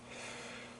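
A person with a cold gives a single brief sniffle, a soft nasal intake heard close up against a quiet background hum.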